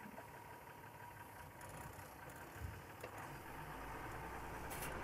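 Mercedes-Benz Unimog engine on an off-road test drive, a low steady rumble heard from inside the cab with faint knocks and bumps over the whole stretch.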